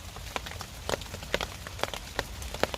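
Steady rain falls in the woods, a dense patter with distinct heavier drops landing at an irregular rhythm, close and fairly loud with no voices.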